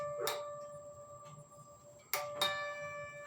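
A dog outside the door gives a few short, sharp howling yelps, spaced apart against a quiet indoor room with a faint steady tone in the background.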